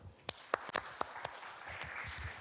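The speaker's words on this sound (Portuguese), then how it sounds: "Obrigado, palmas para ele." Scattered, sparse clapping from a church congregation at a Sunday service, a handful of distinct claps spread over two seconds, faint and somewhat distant.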